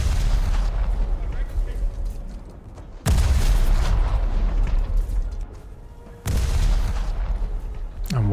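Heavy ship guns firing in a naval battle game, two big booming salvos about three seconds apart, each rolling over a constant low rumble of engine and sea noise, with no voices over them.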